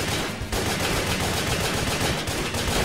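Rapid, dense gunfire from the PS3 action game Wet forms an unbroken burst of loud crackling shots with only a momentary dip, close and harsh with no talk over it.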